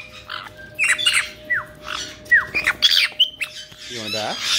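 Pet bird squawking up close, a run of loud harsh squawks and short rising chirps in irregular bursts, with a person's voice speaking to it in between.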